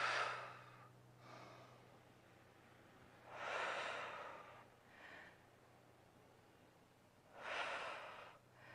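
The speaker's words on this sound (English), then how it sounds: "Breathing in and out." Slow, audible breaths in and out during standing warm-up stretches, three broad airy swells spaced a few seconds apart, close and soft with no talking.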